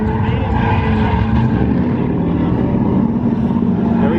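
A car drives continuous circles on a track, its engine holding a steady roaring drone under the throttle throughout, with no pauses.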